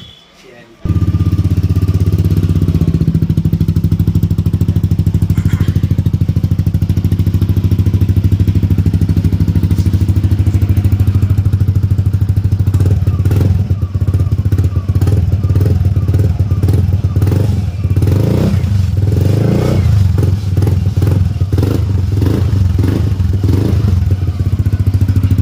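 A Yamaha Aerox 155 scooter fitted with a full aftermarket exhaust starts and idles with a deep, loud burble, then revs repeatedly in sharp bursts, close to the listener throughout.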